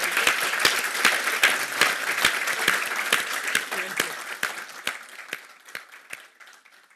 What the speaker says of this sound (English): let's give a big applause to Jennifer and Rolf